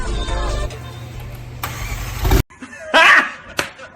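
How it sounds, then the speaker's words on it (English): A McLaren's newly installed engine cold-starts, cranking and catching into a loud, rough rumble, then cuts off, followed by a few short bursts of noise and a voice. "this is going to be the very first cold start with the new engine"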